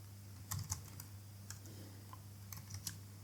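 Go code typed on a computer keyboard, with quick, quiet key clicks in short bursts over a steady low hum and no talking.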